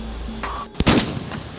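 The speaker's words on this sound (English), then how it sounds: "There's a guy with a gun. He's shooting." A gunman fires during an active shooter drill, producing one sharp, loud crack followed by a brief ringing decay, with faint background noise before and after.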